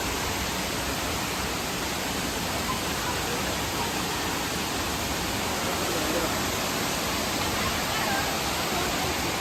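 Sarugudu waterfall near Narsipatnam pours down in a dense, unbroken roar of rushing water, loud and close, steady throughout with no pauses.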